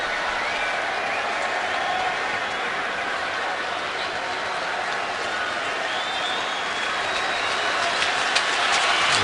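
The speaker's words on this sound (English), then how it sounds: "Darius Hayward-Bay now hearing it from the crowd" A large crowd at an NFL football stadium during a Raiders–Steelers game keeps up a steady, far-off roar of noise, with scattered cheers and claps rising from the stands and continuing without a break.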